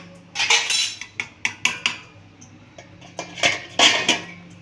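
A metal lid set onto a pan of restaurant-style chilli chicken, with a run of close, bright clinks and clatters, several sharp hits in quick succession and no voice.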